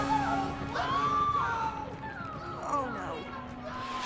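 Cartoon ponies cheering as a crowd, excited high-pitched whoops and shouts close by, with lively voices overlapping through the stretch.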